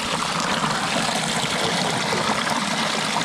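Bear Creek in the San Gabriel Mountains near a canyon campground, its stream water rushing and splashing in a steady, close, continuous wash with no talk.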